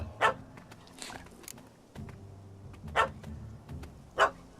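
A dog barking in the video game The Witcher 3: Hearts of Stone, a few sharp separate barks spaced over a few seconds, moderately close, with quieter game ambience and music between them.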